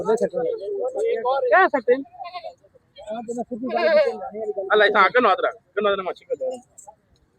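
Several wavering goat bleats rise and fall across the clip at a goat market in Dina, loud and close, in short bursts with brief pauses between them.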